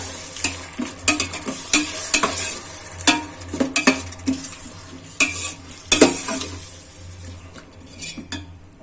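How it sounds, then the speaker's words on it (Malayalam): Yogurt being stirred into chili-paste masala in a pot for Ambur chicken biryani, with repeated close scraping and clanking of a spoon against the pot over a soft sizzle, no talking. "നമുക്ക് ഇതിലോട്ട് തൈര് ചേർത്ത് കൊടുക്കാം. നന്നായിട്ട് ഇളക്കി കൊടുക്കുക."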